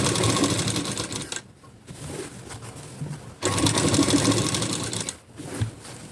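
Sewing machine stitching a sleeve onto a tailored blouse, running in loud bursts of rapid, steady stitching that pause twice briefly before starting again.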